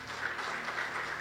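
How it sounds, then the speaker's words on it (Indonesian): Steady applause from a church congregation, a dense even patter of many hands clapping without a break. "Kita tepuk tangan buat Tuhan kita."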